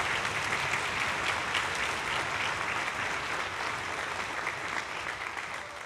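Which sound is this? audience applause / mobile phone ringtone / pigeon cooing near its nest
audience applause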